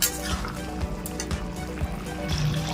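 Hot water is poured into a pan of onion chicken masala, a brief splashing gush with liquid sizzle and dribble, fairly loud and close, with no voices.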